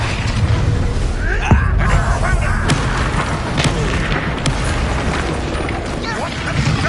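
An Incendio fire spell blasting in Hogwarts Legacy, a dense, loud rumbling roar with thumping impacts and scattered crackling bursts amid game combat, with voices speaking over it.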